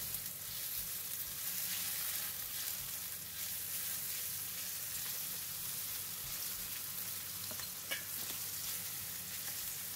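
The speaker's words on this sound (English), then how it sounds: "Stir for about 15 seconds or until they are evenly coated with garlic oil." Sliced shiitake mushrooms stir-frying in garlic oil for a choy sum stir fry, a constant close sizzle with light stirring scrapes and a brief utensil clink near the end.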